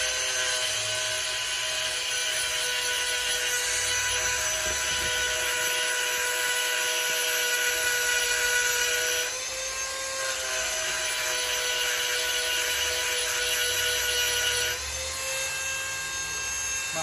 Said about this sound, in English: I might have to grind them. Try the Dremel.